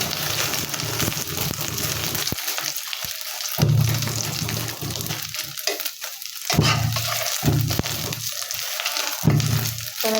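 Egg frying in a new wok, a steady close sizzle with bursts of stirring and scraping against the metal, alone with no voices.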